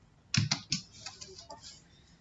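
Python code tapped out on a computer keyboard: a quick run of about eight close, crisp keystrokes, the first few loudest, with no talk over them.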